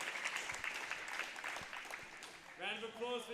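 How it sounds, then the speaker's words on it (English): Crowd claps at a novice powerlifting competition, a brief spatter of applause that is mostly masked by talking, then a voice rises near the end. "Round of applause for Jaden."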